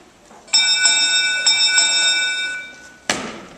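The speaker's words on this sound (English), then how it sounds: "Who rang that bell?" A bell rung on stage during a drama club play set in the Emerald City, struck several times with ringing metallic tones sustaining between strikes, followed by a sharp crash at the end.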